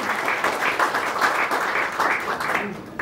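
An audience breaks into loud, sustained applause for the composer duo Sachin-Jigar at a Marathi film event, a dense wash of clapping that carries on throughout and thins slightly near the end.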